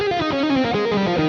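An electric guitar plays an alternate picking exercise at a faster speed, with rapid picked notes in a continuous, evenly dense line through a distorted, effected tone, no talking.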